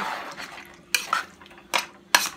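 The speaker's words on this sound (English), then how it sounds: "I'm stirring it, turning everything over." Curry chicken and pork are stirred in a pot, with a few sharp metallic clinks and scrapes of a utensil against the pot over a low background simmer and no speech.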